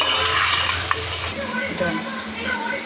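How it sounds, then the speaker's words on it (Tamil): Radish sautéing in hot oil with mustard seeds, fennel and onion for a radish curry kuzhambu: a loud, close, continuous sizzle with stirring scrapes and a brief clink, no voices. "கறி குழம்புக்கு முள்ளங்கி வதக்கிட்டுருக்கோம்"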